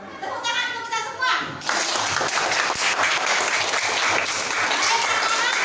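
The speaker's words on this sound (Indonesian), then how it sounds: "tepuk tangan untuk kita semua." Schoolchildren in an Indonesian classroom break into clapping together, a dense burst that follows a teacher's voice and children's chatter and carries on steadily to the end.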